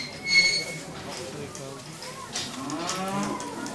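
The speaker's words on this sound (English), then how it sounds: "Mr. Robertson, thank you very much, a lovely cow" A dairy cow lows loudly at an Oxfordshire livestock auction, one drawn-out moo rising near the end, with an auctioneer's voice and sale-ring chatter running beneath it.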